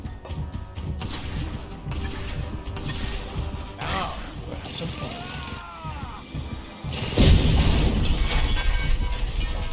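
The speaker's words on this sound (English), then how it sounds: "Who's shooting at me?" Gunfire and explosions from a third-person open-world combat video game, with dense, cluttered bursts and a louder blast-like surge near the end, sounding over a busy game mix while someone talks.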